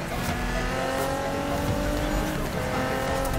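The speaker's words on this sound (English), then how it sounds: "I can't get over how nice this GTR sounds" Nissan GT-R engine in the Need for Speed 2015 video game: loud continuous engine roar with tire squeal and skidding during hard driving, dense and close throughout.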